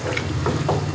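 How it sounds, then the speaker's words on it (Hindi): Spices fry at close range in a karahi over full flame for Shinwari dumba karahi, giving a steady bright sizzle broken by a couple of brief stirring scrapes, with no voices. "ये मसाले डालते के साथ ही हमने फुल आंच करके बुनाई शुरू कर दी।"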